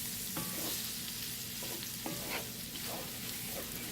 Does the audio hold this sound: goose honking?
no